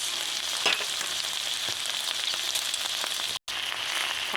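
Fried rice sizzling steadily in a hot pan as it is stirred, a continuous bright frying hiss with scattered soft scrapes and clicks of the spatula, close and fairly quiet.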